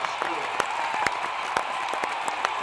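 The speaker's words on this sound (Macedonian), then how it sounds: "Аплауз сега." Audience applause at a comedy rally, a steady wash of clapping with distinct sharp claps scattered through it, moderately loud.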